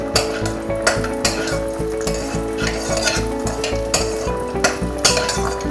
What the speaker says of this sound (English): So first let's add very little of desi ghee into it. Add julienne of ginger.